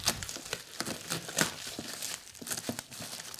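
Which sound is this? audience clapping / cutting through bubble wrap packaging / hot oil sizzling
cutting through bubble wrap packaging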